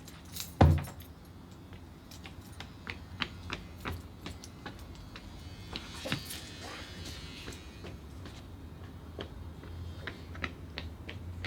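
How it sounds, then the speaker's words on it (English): Car keys jangle close by, a sharp metallic burst at the start followed by scattered lighter clinks and ticks over a quiet room background. "Car keys!"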